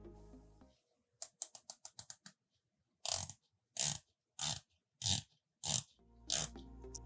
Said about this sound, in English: Now let's have a listen to the bezel.